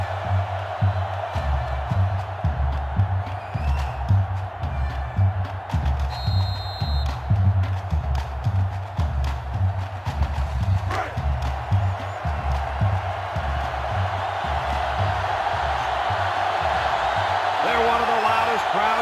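Loud stadium crowd roaring and cheering in the NCAA Football 2005 video game, during a Penn State versus Ohio State college football game, a sustained wash of crowd noise with rhythmic low thumping and a commentator talking over it.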